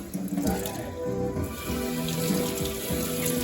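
Running water pours steadily from a tap into a sink to rinse a photographic print, a close, continuous splashing gush with slight shifts as the print moves under the stream.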